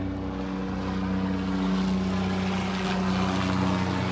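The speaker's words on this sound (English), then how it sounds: "Except for the helicopter flying over." A helicopter's steady rotor and engine drone hangs overhead at a beach boardwalk at Delnor-Wiggins, loud and continuous, with no voices.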